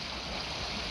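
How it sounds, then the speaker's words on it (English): A fast-flowing river rushes over rocks and old bricks near an old stone bridge, making a steady, close, broadband roar of churning water with no pauses. "It is very fast flowing. It is full of rocks and old bricks."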